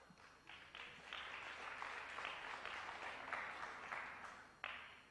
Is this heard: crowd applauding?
yes